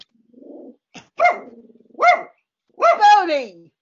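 A dog barks several times, close and loud, with short separate barks and a low growl before them. Each bark is set apart by brief quiet.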